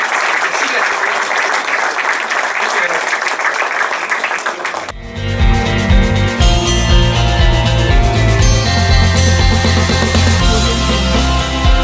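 Conference audience gives loud, dense applause for about five seconds, then it cuts abruptly to loud music with a strong low beat that carries on to the end.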